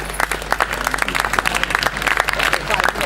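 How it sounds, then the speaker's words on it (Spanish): Audience applause for the presenters at a girls' tennis awards ceremony of the Galician Tennis Federation, a dense burst of many hands clapping steadily for about three seconds. "Un aplauso para ellos, por favor."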